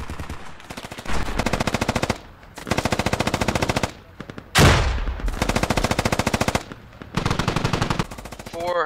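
A SAW light machine gun fires in the military shooter game Squad, loud close bursts of rapid automatic fire several seconds long, separated by brief pauses, with one sharper single blast in between.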